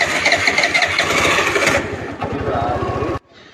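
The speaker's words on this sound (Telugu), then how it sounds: "ఇలా త్వరగా స్టార్ట్ అవ్వడం వల్ల సెల్ఫ్ మోటార్ వాడకం తగ్గుతుంది" A BS6 motorcycle engine, its throttle body just adjusted, fires up quickly on the self-starter and settles into a loud, close, rapid idle thump before cutting off abruptly.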